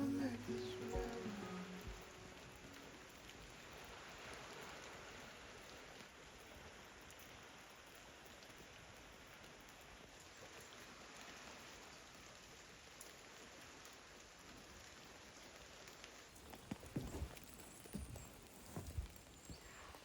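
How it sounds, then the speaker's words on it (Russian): Autumn rain falls outside in a steady, soft patter and hiss for most of the stretch, with a few closer knocks and taps near the end. "У нас сегодня всю ночь и утро идет дождь."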